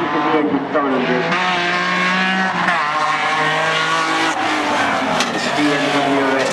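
A rally car with a BMW 2.3 engine races past close by, its engine revving hard and rising and falling in pitch with tire squeal, loud and continuous, with voices faintly underneath.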